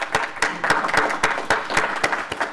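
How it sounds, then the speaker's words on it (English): Audience applause after a panel discussion: a crisp burst of separate hand claps from a modest crowd, steady and close for a couple of seconds with no talking. "so let's give them a round of applause."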